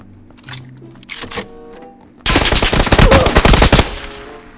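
Gunfire in the battle royale game PUBG: a few scattered sharp shots, then a loud rapid burst of automatic fire lasting over a second, fading into quieter clatter.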